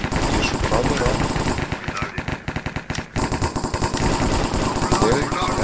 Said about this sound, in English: I can shoot with my AK.